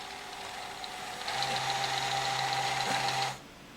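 A PS3 optical drive spins up inside the opened console, giving a steady whirring motor hum with a faint high whine. It holds for about two seconds, then cuts off abruptly.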